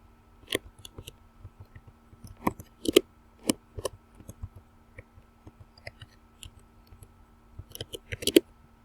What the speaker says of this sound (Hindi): इस तरह से आप टाइप कर दोगे